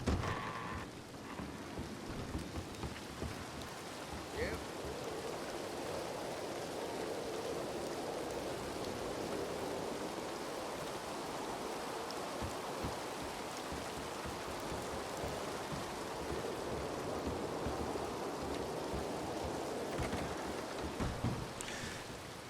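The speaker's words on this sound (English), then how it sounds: "I'm quite frigid from the storm tonight" A heavy rainstorm in Red Dead Redemption 2 hisses steadily for the whole stretch. Low thunder rumbles beneath it, with a few sharper crackles near the start and end.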